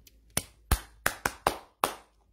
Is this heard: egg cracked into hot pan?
no